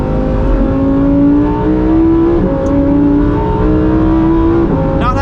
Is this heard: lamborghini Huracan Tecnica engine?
yes